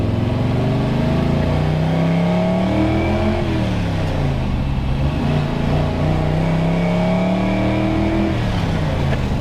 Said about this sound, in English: Runs really good. Got to get past the richness of the carburetor